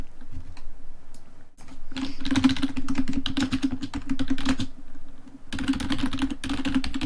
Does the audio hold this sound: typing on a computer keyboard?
yes